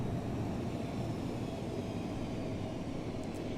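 An airplane flies over a Greek town near Sparta in the Prepar3D v2 flight simulator, with a steady broad engine drone that holds at an even level with no talk over it.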